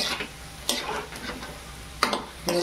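Peanuts frying in oil for a breakfast dish, a soft steady sizzle broken by a few sharp scraping stirs, close by with no voices.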